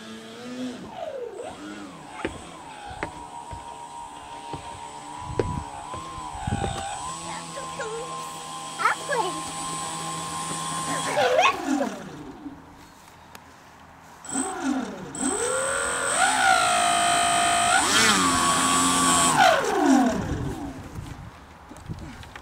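A small RC Piper Cub model airplane's engine and propeller rev up and down in two bursts separated by a brief lull, the buzzing pitch sliding and climbing close by while people talk nearby.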